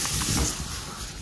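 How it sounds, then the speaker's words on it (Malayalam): Hot water poured into a pot of chicken curry gives a steady, close broadband hiss lasting just over a second. "വെള്ളം ചൂടാക്കി ഇതിലോട്ട് ഒഴിച്ചു കൊടുക്കണേ"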